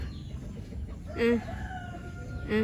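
Chickens clucking among walking chicks on a farm, with two short, clear clucks rising over a steady outdoor rumble.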